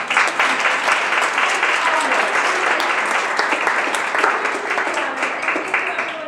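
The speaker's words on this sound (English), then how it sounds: "let's give them a hand of applause" A conference audience gives a steady round of applause, many hands clapping together at an even, fairly loud level throughout, with faint voices mixed in.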